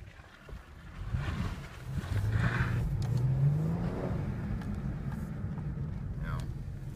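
A Dodge Charger engine revs and pulls away, its tone climbing and then settling as the transmission shifts, a steady close mechanical drone with voices faintly in the background.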